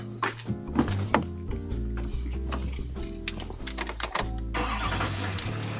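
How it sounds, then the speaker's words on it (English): A brand-new diesel truck engine running on biodiesel cranks and catches, then settles into a loud, close, lumpy idle with a rhythmic knock and a rising rumble toward the end. "And that's the sound of a brand new diesel engine."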